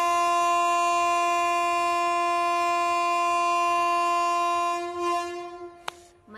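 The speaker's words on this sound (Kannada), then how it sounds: "ಮನೆ ಪಕ್ಕದಲ್ಲೇ ರೈಲ್ವೆ ಸ್ಟೇಷನ್ ಇದೆ, ಅದಕ್ಕೋಸ್ಕರ ಸೌಂಡು" A train at a railway station right beside a house sounds a long, steady horn that holds for several seconds, then fades out and ends with a sharp click.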